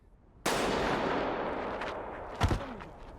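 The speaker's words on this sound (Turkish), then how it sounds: "bir silah sesi duyuyorlar ve en öndeki oyuncu yere düşüyor" A single loud, sharp bang cuts into the quiet, leaving a long rumbling tail, then a second crack rings out a couple of seconds later.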